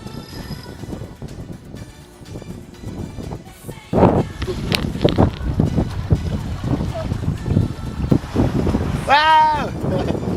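A reefed sailboat races through windy conditions off Sopot near Gdansk, with loud wind buffeting and rushing water. Voices call out over the noise, and the roar grows heavier partway through.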